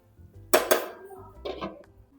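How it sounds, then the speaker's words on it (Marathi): Vegetables being stirred and mixed in a cooking pot, with two sharp metallic clanks of a spoon against the pot followed by a softer scraping knock, close and otherwise quiet. "आता पुन्हा एकजीव करून घेऊया"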